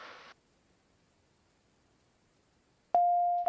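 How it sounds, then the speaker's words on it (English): A Phenom 300 jet cockpit baggage smoke warning test sounds a single steady electronic tone that starts abruptly near the end and holds for about half a second, loud against an otherwise quiet cabin after a brief noise burst. "So when you push smoke, it's going to pretty much check the baggage smoke detector system. So you'll hear ding, ding, ding,"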